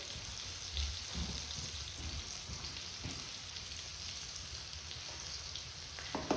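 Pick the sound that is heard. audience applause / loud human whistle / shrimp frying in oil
shrimp frying in oil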